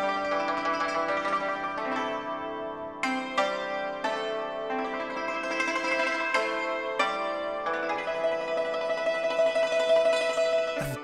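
Yangqin, the Chinese hammered dulcimer, struck with tiny hammers, producing bright ringing metallic notes in quick tremolo runs that sustain and overlap continuously, played alone and close with no talking.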